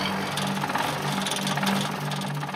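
An old truck's engine idles steadily alone, a low rumbling hum with a faint knocking beat and vibration throughout.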